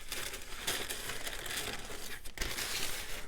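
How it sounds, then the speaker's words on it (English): Scrapbook paper crinkling and crumpling up close, a dense continuous rustle with brief pauses as the sheet is handled. "I do apologize for the crinkly noise."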